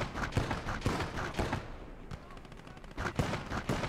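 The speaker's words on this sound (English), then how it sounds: "So we're just firing the Beauforts into that house" Beaufort guns in Gates of Hell: Ostfront fire HE shells into a house, heard as a string of sharp, punchy reports in irregular bursts with a brief quieter gap midway.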